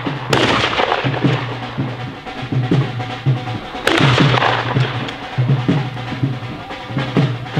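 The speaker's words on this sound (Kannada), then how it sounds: "ಏನೋ ಗನ್ನು ಒಂದು ಸ್ವಲ್ಪ ಏರ್ಪೈರ್ ಮಾಡ್ತೀವಿ." A gun is fired into the air to drive off elephants: two loud, sharp reports about three and a half seconds apart, each trailing into a noisy rumble over a steady low hum.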